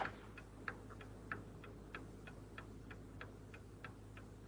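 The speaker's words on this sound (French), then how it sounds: "Danny, il me semble entendre quelque chose, un tic-tac." A clock ticks steadily and faintly in a quiet room, regular tick-tock beats spaced about a third of a second apart over a low steady hum, with no voices.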